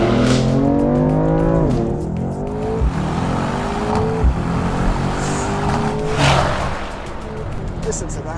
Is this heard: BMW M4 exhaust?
yes